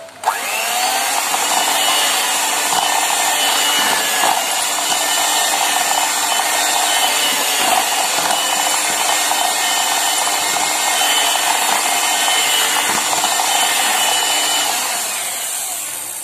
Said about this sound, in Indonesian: lalu kita masukkan kuning telur, kita mixer sebentar aja ya sampai tercampur rata aja